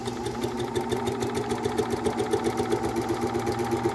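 A WHITE 228 serger runs steadily at speed, giving a fast, even mechanical whir with rapid stitching pulses throughout, close and continuous with no talking.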